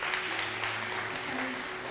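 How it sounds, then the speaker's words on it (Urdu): Studio audience applause on a live Ramadan debate show, a steady dense clapping that fills the whole stretch without pause. "بہت ساری تالیاں کائنات کے لیے"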